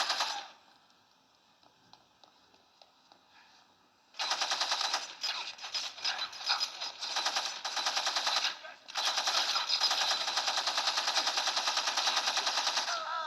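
Sustained automatic gunfire in the Gangstar Vegas video game during an army base shootout, bursting in loud and dense after a quiet start and rattling almost continuously with a brief break midway.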